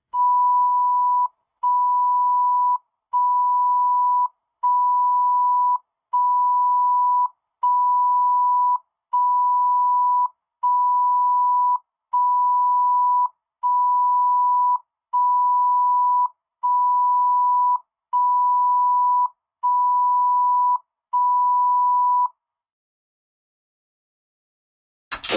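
Fifteen evenly spaced electronic beeps, each about a second long with short gaps between, loud and clean over silence, followed by a brief burst of sound at the very end.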